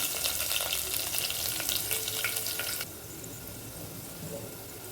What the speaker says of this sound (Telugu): చూసారా, ఇప్పుడు తాలింపు పెడుతున్నాను.